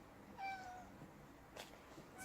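A domestic cat meows once indoors, a faint, short call followed by light rustling of the cat bumping into a cardboard box.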